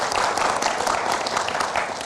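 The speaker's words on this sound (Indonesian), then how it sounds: "kita berikan tepuk tangan untuk Coach Nova." An audience claps for Coach Nova, a dense, steady burst of applause from a crowd filling the room for about two seconds, without clear speech over it.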